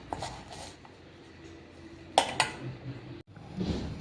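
Grated carrot pickle mixture stirred in a bowl, giving soft clinks and scrapes of a spoon against the dish, a couple of sharper taps amid quiet, close handling.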